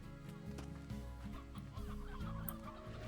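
Chickens cluck in the Slime Rancher video game, a steady run of short fowl calls over a layered game soundtrack, moderately loud and with no talking.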